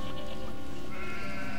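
A sheep bleats in the Catherine video game, with wavering bleats layered over a dense, steady game soundtrack that stays loud throughout.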